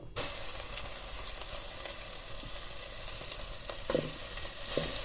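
Fish frying in a pan, a steady close sizzle and crackle throughout with faint clinks of stirring, no talk.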